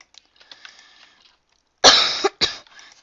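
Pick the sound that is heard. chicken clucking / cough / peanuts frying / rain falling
cough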